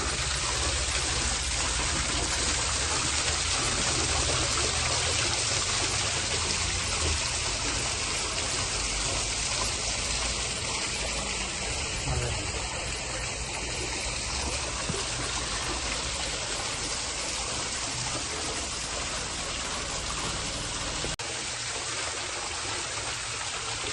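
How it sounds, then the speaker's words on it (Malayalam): Water gushes out and flows strongly in a dense, continuous rushing roar, steady and loud from start to finish with no pauses. "അടിപൊളിയാണോ വെള്ളം ചാടുന്നത്?"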